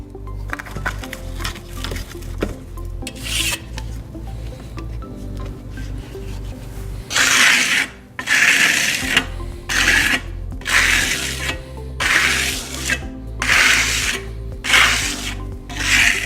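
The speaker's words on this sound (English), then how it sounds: "the edge of my trowel, and I'm just going to come through here and just lay this down. Take off any excess." A trowel spreads and scrapes Grassello lime plaster across a wall for a decorative finish, making loud, close, gritty rasping sweeps that start as scattered strokes and build into a steady series of long scrapes, with no speech.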